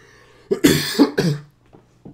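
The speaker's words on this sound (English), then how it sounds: "just coughing and hacking up a lung" Several harsh coughs in a quick cluster up close, followed by a couple of softer trailing coughs.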